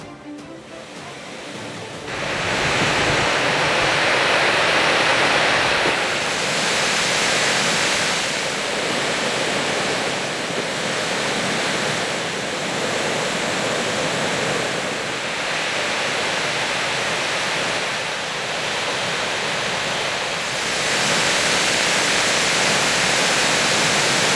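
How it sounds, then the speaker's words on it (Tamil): Water pouring out of Gundar dam in Tenkasi district after continuous rain, a dense, steady roar of rushing water that stays loud and unbroken throughout, with no voices. "அணையிலிருந்து தண்ணீர் வெளியேறும் ரம்மியமான காட்சிகள்."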